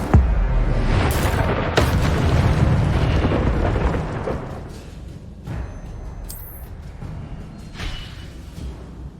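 Incendio fire spells cast in the Hogwarts Legacy game land as loud booming bursts with whooshing tails, several blasts close together at first, then quieter scattered pops as the noise fades.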